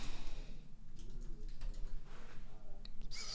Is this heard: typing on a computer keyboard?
yes